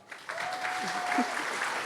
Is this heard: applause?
yes